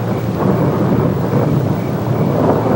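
Thunder rolls as a storm builds before rain, a dense, continuous low rumble with hiss that stays loud and steady throughout, with no voices.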